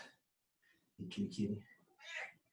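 A house cat meows several times indoors, short close calls with a slight pause between them, heard alone with a faint voice around them.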